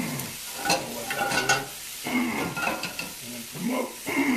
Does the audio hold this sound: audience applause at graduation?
no